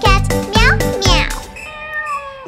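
A child-like sung voice imitates a cat, repeating a bright, melodic "meow" three times in a nursery-rhyme animal dance song, each call loud and close over light backing music.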